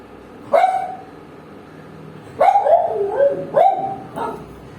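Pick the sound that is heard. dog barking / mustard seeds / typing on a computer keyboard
dog barking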